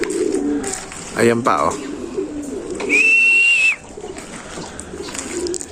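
Racing pigeons coo briefly after being released for a training toss, and a thin, steady whistle sounds midway. Someone speaks in short bursts nearby.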